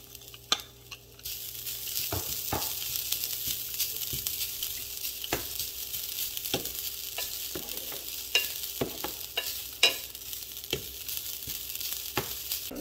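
Grated coconut roasting in a pan for a coriander sambal, stirred with a spatula: a steady dry sizzle broken by frequent sharp scrapes and taps against the pan.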